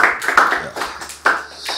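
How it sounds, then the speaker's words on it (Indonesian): Audience applause for Om Deddy at an Indonesian talk show, a short burst of clapping that fades and then swells again near the end. "Tepuk tangan buat Om Deddy"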